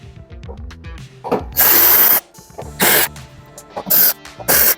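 A power drill removes screws from the top cover of a Scotsman ice machine in four loud, separate bursts of whirring, with quieter clicks and handling noises between them.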